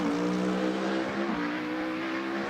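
A BMW M3 drift car in the racing game Assetto Corsa holds a steady high engine drone with a slight dip partway through and tire hiss underneath, loud and continuous.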